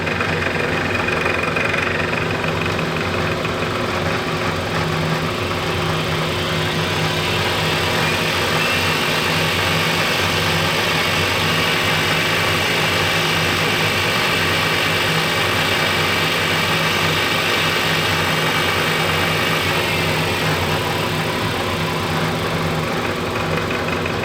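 A Rikon 30-212VS drill press motor runs steadily throughout, a constant close hum with no talk, as belt speeds are tested.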